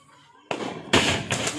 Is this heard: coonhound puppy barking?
no